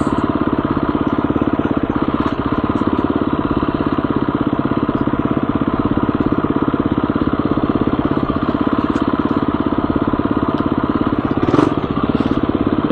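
A motorcycle engine lugs low in second gear with a steady, deep, chugging pulse, loud and close, with wind noise and no clear change in revs.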